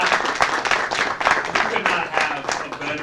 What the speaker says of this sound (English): Let's have a round of applause for Bridget and for the entire team.